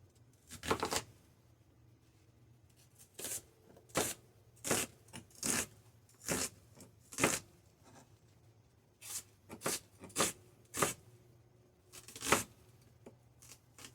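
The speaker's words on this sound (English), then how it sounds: "Go and get the onions cut up and out of the way." Onions being cut up on a board for a smoked pork loin stew: a dozen or so separate knife strokes, some quick doubles, at moderate loudness with a low steady hum underneath and no talking.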